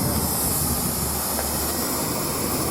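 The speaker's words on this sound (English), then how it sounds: "I now have enough steam to blow steam up a Venturi effect up the stack, and that's an even better draft" Steam blows up the stack of a G gauge live steam locomotive at a live steam meet, a steady, close, broadband hiss that holds evenly for under three seconds with no voices.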